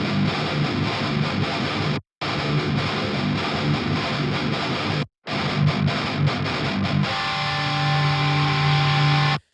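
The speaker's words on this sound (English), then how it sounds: "Let's take a listen to what these guitars sound like by themselves." Double-tracked electric guitars with heavy metal distortion chug dense, loud chords, stopping abruptly twice before ringing out on a sustained chord, with no voices.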